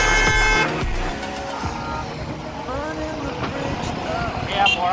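A Maruti Alto car passes along a busy, crowded road, its engine and tyre noise blending into steady traffic rumble, with horns sounding nearby and loudest at the start.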